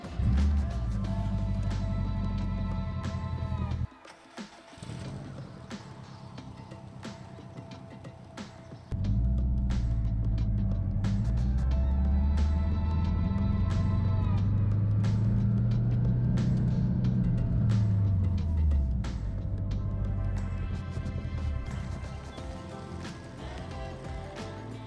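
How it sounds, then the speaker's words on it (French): Car engine idling steadily with a low rumbling drone, cutting out briefly and restarting, then rising and falling in pitch as revs swell and settle over about twenty-five seconds. "je vais allumer la voiture"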